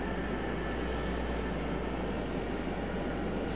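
A Delta airliner arriving from Salt Lake City at Raleigh-Durham airport makes a steady, broad jet roar, fairly distant and constant throughout without speech.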